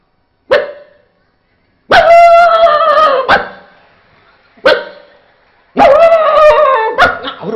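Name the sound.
man imitating another dog barking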